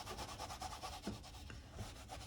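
Spilled Payne's gray paint rubbed in with a towel, a soft rapid back-and-forth scrubbing that repeats steadily at close range and low volume.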